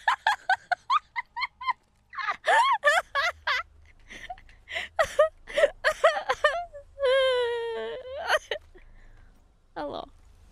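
In the game Naraka Bladepoint, a screaming chicken weapon gives off a run of squawks, shrieks and clucks, loud and close, with a drawn-out wavering scream near the end.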